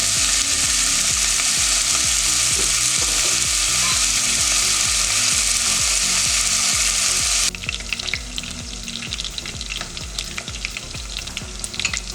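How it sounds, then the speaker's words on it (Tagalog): Chicken fat fries in a pan for chicken inasal, giving a loud, steady, dense sizzle close up that eases slightly partway through. Nobody speaks. "We're just gonna fry it."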